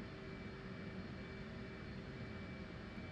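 A jet engine spins up in the DCS World flight sim, giving a steady, even roar with a thin whine held underneath for the whole stretch. No one speaks.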